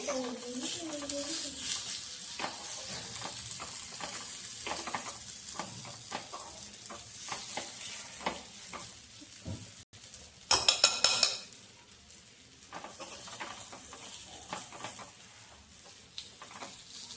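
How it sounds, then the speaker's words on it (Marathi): Sprouted moong beans sauté in a hot pan, a steady sizzle broken by scraping stirs and a clatter of utensil against metal near the middle, with a brief quieter moment. "असे परतून घ्यायचे"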